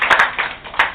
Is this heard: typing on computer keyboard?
no